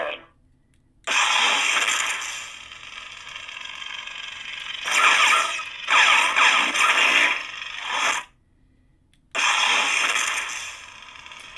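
A Kylo Ren crossguard lightsaber sound font ignites repeatedly: loud crackling, sputtering bursts of several seconds each, separated by brief silences, with the crossguard quillons joining after the initial ignition.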